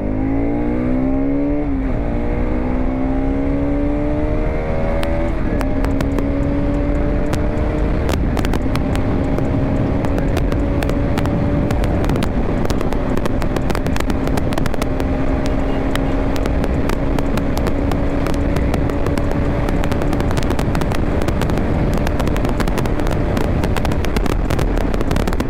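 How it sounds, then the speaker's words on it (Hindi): A Bajaj Pulsar RS200 motorcycle engine roars loud and close at high speed on the road, its pitch climbing through gear changes and then holding a sustained high-revving drone amid heavy wind rush. "साउंड है बाइक का, बहुत तगड़ा बहुत तगड़ा।"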